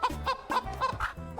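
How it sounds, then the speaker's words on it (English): A hen on a farm clucking in a short run of rhythmic, chuckling bursts, fairly close and clear with no talk over it. "It's a hen. Look, it's a hen."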